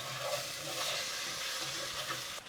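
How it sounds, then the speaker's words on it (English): Spices being stirred in a pan with garam masala for matar paneer, a steady soft sizzle and scraping that continues evenly throughout, close and moderately quiet. "Give it a good mix."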